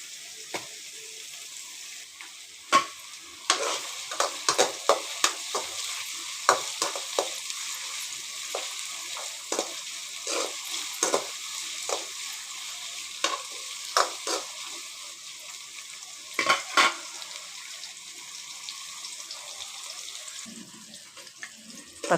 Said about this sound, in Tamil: 2 தக்காளி கட் பண்ணி அதில் போட்டுக்கலாங்க. நல்லா வதக்கி விட்டுக்கலாம்.